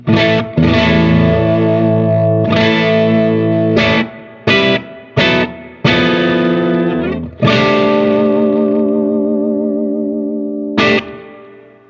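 An electric guitar with a pickup blending humbucker, P90 and Tele character plays distorted chords and short stabs with a thick, gritty tone, letting the final chord ring out and slowly decay.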